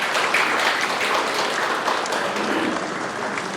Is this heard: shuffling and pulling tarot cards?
no